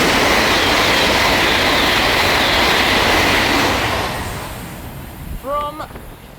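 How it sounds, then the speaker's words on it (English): A Great Western Railway London Paddington to Penzance service, a Class 800 unit, roars through Slough station at speed in a loud broad rush that fades away, followed by a brief horn-like tone near the end. "Passing through now is a Great Western Railway service"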